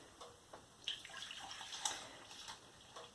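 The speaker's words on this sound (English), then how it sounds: "That's the syrup ready, and pour it into a jug," Homemade elderberry syrup is poured into a jug, a soft, close liquid splashing and trickling with a few brighter drips, quiet and unaccompanied by speech.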